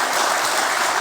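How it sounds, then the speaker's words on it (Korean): Church congregation applauding together during a worship service, a dense, steady wash of clapping filling the room for a brief moment with no talk over it. "다시 한번 크게 박수 한번 이렇게 해주시다."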